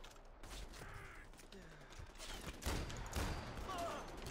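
Faint bursts of gunfire and mechanical clatter during a Far Cry 4 firefight rattle in the distance, with shots scattered through low game ambience and a louder crackle near the end.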